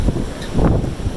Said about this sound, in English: Nothing I can do about the wind just yet.